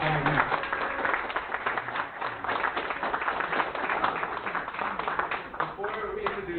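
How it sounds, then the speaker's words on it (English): Crowd at an outdoor rally in a park gives a round of applause, scattered claps running throughout beneath voices talking and calling out. "Let's give her another round of applause,"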